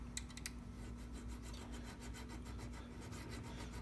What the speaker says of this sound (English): didn't have to use the hacksaw,